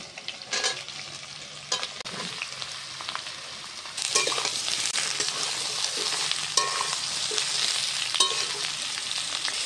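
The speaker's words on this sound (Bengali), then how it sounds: "আলু ভাজা ভাজা হয়ে গেছে, এবার আমি ঝিঙে কুচি দিয়ে দিচ্ছি।" Chopped ridge gourd added to frying potatoes in a pan. Stirring scrapes sound over a moderate sizzle that swells louder partway through and stays steady to the end.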